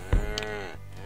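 A single bovine moo from cattle in the Survivalcraft 2 video game, one loud swelling low call lasting about half a second, then a steady hum of game background.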